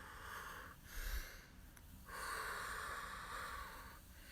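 Forceful breaths pushed out during a morning stretching exercise outdoors in the sun, several rushing exhales in sequence, close and fairly soft.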